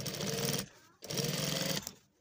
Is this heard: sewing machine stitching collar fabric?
yes